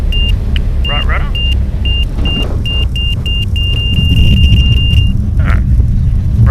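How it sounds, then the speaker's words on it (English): A Sling 2 light aircraft's engine is throttled back to idle during circuits at Tooradin, a low steady rumble beneath a string of regular electronic beeps, with a voice talking over it. "let's bring the throttle gently back to idle"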